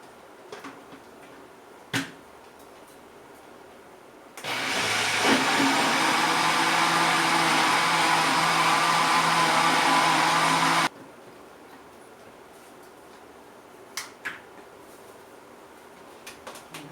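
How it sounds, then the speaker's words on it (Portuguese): Small kitchen blender whirring through pineapple pudding mix for about six seconds, a loud steady motor roar starting and stopping abruptly, with quiet kitchen clatter before and after. "meu liquidificador é muito pequenininho. Vou dar uma batida"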